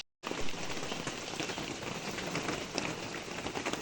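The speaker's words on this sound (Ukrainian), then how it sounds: "Дощів сьогодні, по прогнозу, буде цілий день." Rain falls steadily after a brief silent start, a dense continuous patter of drops hitting surfaces with small sharper spatters throughout. No one speaks.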